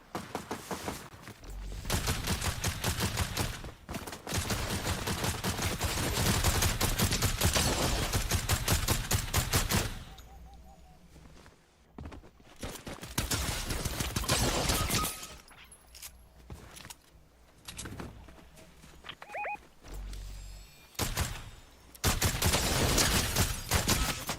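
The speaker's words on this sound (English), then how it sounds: "They're firing at us from up the hill." Enemy gunfire in Fortnite pours down from a hill in dense, loud bursts, with a quieter stretch of scattered single shots in the middle before the heavy volleys return.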